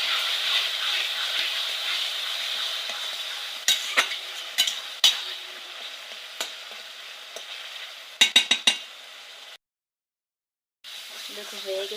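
Taro greens (kochu shak) fry in a pan with a soft continuous sizzle, while a utensil stirs and taps against the pan in scattered sharp clicks, including a quick burst of several knocks near the end.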